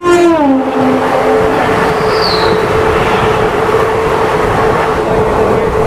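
A passenger train rolls along near the coal-mining town of Raniganj, heard from inside the carriage: a loud, steady, unbroken rumble and rattle of wheels on track, with a brief falling tone at the start and no talk.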